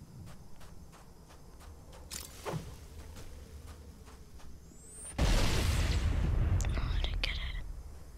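A sticky plasma grenade explodes in Halo: Combat Evolved, a sudden loud, rumbling blast that follows quieter footsteps and a soft ticking ambience, with the boom decaying slowly and a few sharp clicks after it.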